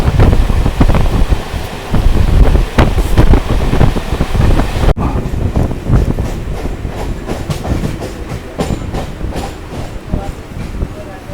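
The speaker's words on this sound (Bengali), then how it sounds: "আমাদের ট্রেনটি বিরা স্টেশন থেকে ছেড়ে দিল" A Sealdah–Bangaon local train pulls away from Bira station, its loud onboard roar and wheel clatter steady in the first half, then dropping to a somewhat softer rumble with rattling and wind buffeting after a sharp break.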